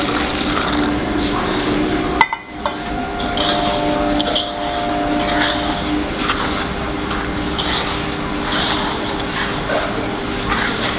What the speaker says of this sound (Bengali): এবার জল দিয়ে জিনিসটাকে ভালো করে মাখতে হবে।